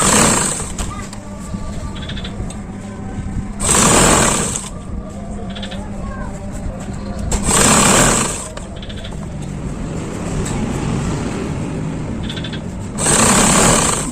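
A sewing machine stitches a sleeve seam about 1 cm in, running in several short, steady whirring bursts with quieter stretches of speech in between.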